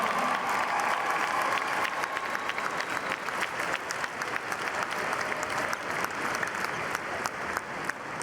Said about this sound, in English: A big round of applause for a state championship effort.